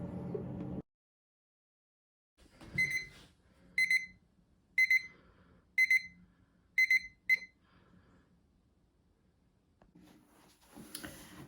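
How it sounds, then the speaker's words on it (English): A kitchen timer alarm goes off after a ten-minute home spa wait, giving six short, bright, evenly spaced beep bursts over a few seconds, fairly close and alone, with quiet room noise around it. "set a timer for 10 minutes"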